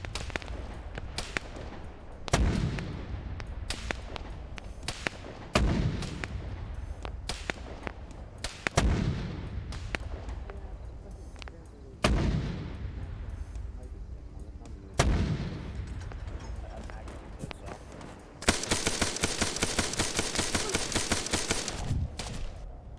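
Artillery shells fire and explode in a video game, a series of heavy booms about every three seconds with long decaying rumbles, followed by a rapid burst of sharp repeated shots near the end.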